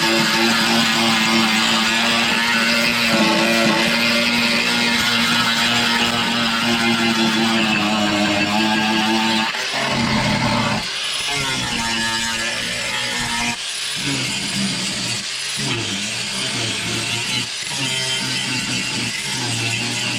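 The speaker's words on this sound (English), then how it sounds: "let's see how this turns out after grinding the rust" An angle grinder grinds rust off the rocker panel of a Mercury Sable station wagon, a loud continuous whine with shifting pitch, dipping briefly in a few short breaks.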